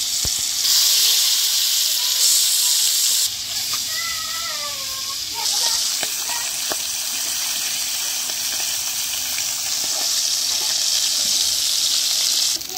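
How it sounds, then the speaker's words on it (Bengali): Pieces of pangas fish sizzle and crackle in hot mustard oil in a pan, a loud, steady hiss that drops briefly after a few seconds and then builds again. "তেল এদিকে গরম হয়েছে, এখন আমি মাছ দিয়ে দিব এরকম করে একটা একটা করে পিস।"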